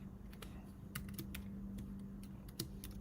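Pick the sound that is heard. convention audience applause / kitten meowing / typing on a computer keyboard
typing on a computer keyboard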